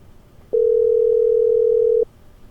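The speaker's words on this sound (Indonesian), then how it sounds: "Telepon Arif kali ya?" A telephone dial tone during a call: a single steady, loud electronic tone that starts abruptly, holds for about a second and a half, then cuts off over a quiet background.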